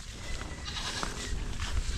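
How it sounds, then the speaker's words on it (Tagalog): A newborn goat bleats on a farm, giving short thin cries over a noisy outdoor background, fairly faint and with no talking. "Mukhang may bagong panganak na kambing."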